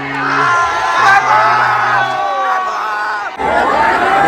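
A crowd at a bullock cart race roars with yells, whoops and cheering, loud and sustained, with excited shouting voices in the mix.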